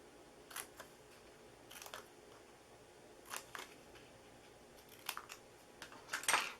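Scissors snip the corners off a paper gingerbread-house treat box, giving a handful of short, crisp cuts spaced irregularly, each a quick bright click, fairly close but soft against a quiet background.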